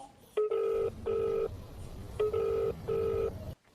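A phone ringback tone sounds twice, each a paired burst of ringing, with a short quiet gap between them and soft room noise behind.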